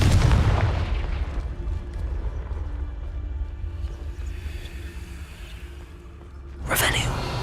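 Confringo fire spell blasts in Hogwarts Legacy, a loud booming burst at the start, then a rumbling tail and a second sharp explosion near the end.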